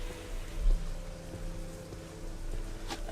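Steady rain from the video game Morrowind patters evenly around the town of Balmora, a constant soft wash of falling water with a faint low hum underneath and no talking.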